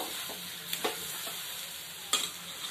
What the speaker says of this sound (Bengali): এরপর আমি যে আলুটা ভেজে রেখেছিলাম ওই আলুটা দিয়ে দিচ্ছি দিয়ে ভালো করে আবার উপর নিচ করে নাড়বো